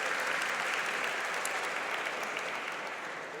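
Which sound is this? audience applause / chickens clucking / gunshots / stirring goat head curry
audience applause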